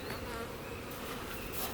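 Honey bees crawling over hive frames and between them during a spring inspection, a steady, dense buzzing hum close by with no voices.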